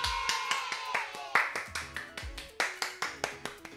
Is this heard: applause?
yes